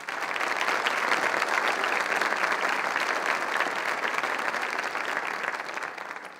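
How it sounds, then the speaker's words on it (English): A large audience at the Center for Rural Development's 15th anniversary event bursts into sustained, loud applause, dense steady clapping that holds for the whole stretch and only eases slightly toward the end. "I want you to give them a round of applause."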